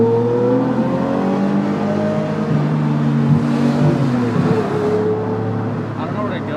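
A Lamborghini Murcielago SV drives along a mountain road, its engine droning steadily with shifting pitch throughout, with people talking over it inside the car.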